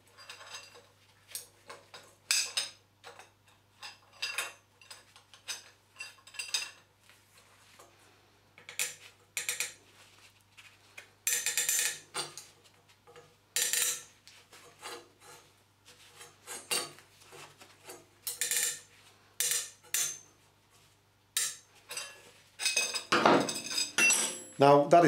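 A small spanner tightens a brass plumbing compression fitting, giving repeated short metallic creaks and scraping clicks in irregular bursts, close up and fairly quiet.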